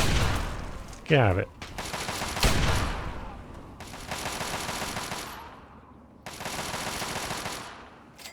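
Gunfire in the video game Fallout 3, with bursts of automatic fire separated by short gaps and a single sharp shot, while someone speaks briefly over it.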